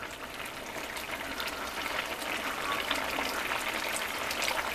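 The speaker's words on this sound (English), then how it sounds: "here is the string beans still cooking" String beans cooking in a pot give a steady, close sizzling and bubbling hiss that holds evenly throughout, with no talking.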